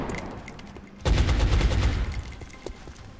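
Gunfire from the turn-based strategy game XCOM, a short quiet lead-in followed by a loud burst of rapid automatic shots that rattles for about a second and tails off into softer echoing reports.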